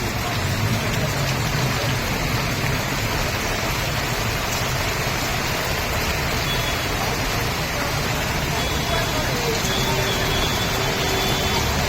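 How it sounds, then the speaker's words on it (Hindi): Heavy rain falls on a road amid wind, a constant loud hiss of water that stays even throughout, with faint traffic or engine hum beneath. "बेहतरीन बारिश हो रही"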